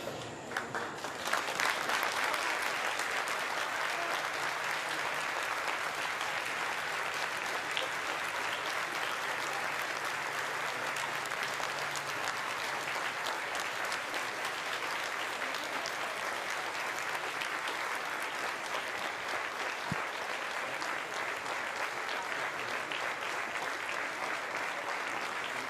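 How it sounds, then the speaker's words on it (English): A stadium crowd at an A-League match between Brisbane Roar and Central Coast Mariners stands for a long moment of applause. Massed clapping from thousands of hands stays steady and broad for about twenty-five seconds, with no voices over it. "we ask you, if you're able, to please stand for a moment of applause for Rado Vidicic."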